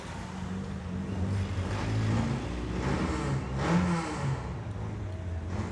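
A rally car runs at the Rallye du Béthunois 2019 at night, its mid-pitched engine drone heard at a distance, swelling and fading steadily with no voices over it.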